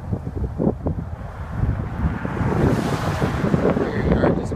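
Strong wind blows outdoors at sunset in Toledo, Ohio, buffeting the microphone with heavy low rumbling gusts that build and stay loud throughout.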